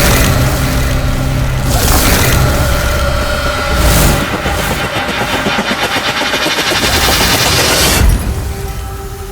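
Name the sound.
gunfire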